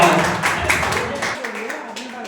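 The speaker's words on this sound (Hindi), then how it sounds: "आप लोग जोरदार तालियों से उनका" Audience at a university hostel Ambedkar Jayanti celebration clapping, a loud burst of applause that fades over a couple of seconds while someone talks over it.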